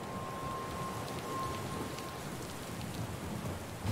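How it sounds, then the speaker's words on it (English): Steady, fairly quiet rainfall from a storm in the fantasy role-playing game Pillars of Eternity II: Deadfire, with a continuous hiss of drops and no voices. "I hope you got a way of turning off that storm."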